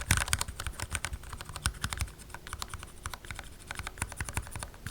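Rapid typing on a mechanical keyboard with stock switches and modified springs, close to the microphone, producing a dense stream of sharp clacks and key bottom-outs with no talking.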